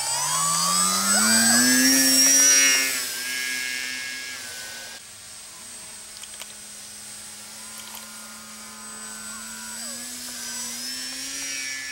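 An RC high wing trainer plane with a 41-inch wingspan flies overhead, its electric motor giving a steady, droning whine that rises and falls in pitch as the plane passes nearer and farther, with no talk.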